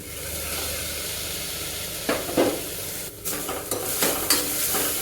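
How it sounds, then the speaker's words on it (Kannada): Washed moong dal frying with softened onions in a pan over low flame: a steady close sizzle, broken by a few scraping stirs of a spoon against the pan, with no voices. "ಇದು 1 ನಿಮಿಷ ಫ್ರೈ ಆದರೆ ಸಾಕು."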